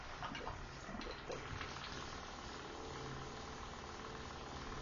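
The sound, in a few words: hot tub pump priming, sucking in water and blowing out air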